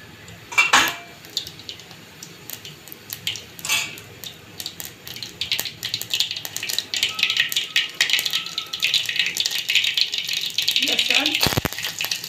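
Mustard seeds and cumin hit hot oil for a nag dive varan dal, building into a bright, crackling sizzle after some clattering of pans and utensils, with a person speaking over it.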